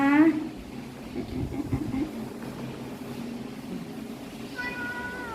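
A cat meows close by, one short call at the start and another near the end, with a woman's Thai speech in between.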